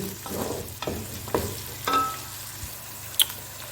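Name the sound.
ginger garlic frying in a pan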